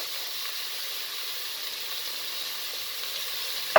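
Ground meat sizzles steadily in a pan while being browned for a spinach dish, a constant hiss close by with no talk over it.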